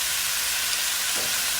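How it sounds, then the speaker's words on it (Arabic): Grated garlic and hot chili hitting hot oil in a pan while making shrimp biryani, producing a loud, dense, continuous sizzle up close, with no speech. "انزل الثوم والفلفل الحار، ثوم مبشور"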